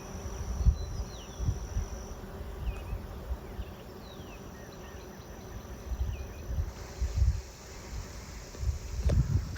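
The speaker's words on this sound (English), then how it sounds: "There will be streakers in this cloud of bees telling them which way to go." A small swarm of honey bees drones overhead outdoors, a steady close buzzing hum with individual bees zipping past, moderately loud and continuous, with light wind.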